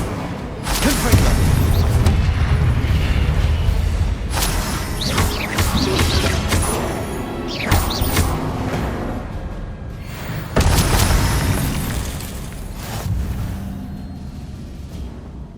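Repeated crashing blasts from the Confringo explosion spell in Hogwarts Legacy burst over a busy game soundscape, several loud booms with swooshes and debris clatter spaced across the scene, mixed with voices.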